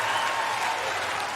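Tennis crowd at the 2025 US Open applauding and cheering in support of Emma Navarro during her third-round match, a dense, steady wash of clapping that holds at an even level throughout.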